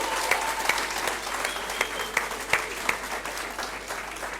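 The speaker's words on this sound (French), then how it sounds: "Diawara en tête, ça s'applaudit très très chaleureusement." At a high school quiz contest, an audience applauds warmly, with continuous clapping and a few sharp, louder individual claps standing out close by.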